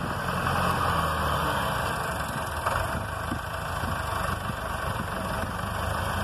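A tractor engine runs steadily at a constant, even pitch while the tractor works farmland. It is a continuous, moderately loud drone with no breaks and no talking.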